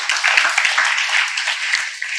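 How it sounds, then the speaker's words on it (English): Short burst of audience applause at a science talk, fairly loud and steady with a few sharper claps standing out, lasting only a couple of seconds. "Give him an applause."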